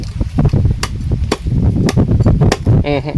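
Meat is chopped with a knife on a board, giving a run of sharp, loud thwacks at an irregular pace, close by, with a brief voice near the end.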